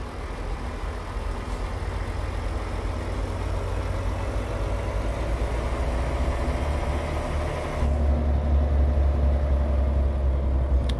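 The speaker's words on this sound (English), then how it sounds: "The engine sounds, meh." A truck engine idles in a truck simulator game, a steady low diesel rumble throughout that deepens and thickens near the end, with no voices over it.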